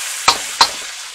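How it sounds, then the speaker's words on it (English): Chopped garlic fries in a hot pan with a steady, loud, close sizzle, broken by two sharp bursts of spattering. "Now we're going to throw in big chopped up garlic."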